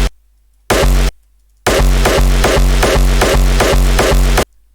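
Hardstyle kick drum sample time-stretched in Ableton, first two isolated booming hits with gaps, then a rapid steady run of distorted pitched kicks, loud and dry, ending abruptly.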